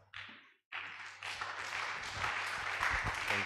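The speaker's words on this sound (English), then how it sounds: "I think we should give another round of applause to our lecturer." Audience applause for a lecturer at the close of a college of medicine reading and literacy talk: a short burst of clapping, a brief pause, then sustained, building applause filling the hall.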